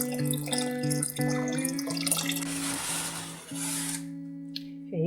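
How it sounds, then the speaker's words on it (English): Water runs steadily into a cooking pot used to brew alkaline herbal tea, topping it back up to the bolts inside after boiling, with a continuous splashing rush under a low humming tone before it stops near the end. "fill my water back up to where these little bolts are in the pot"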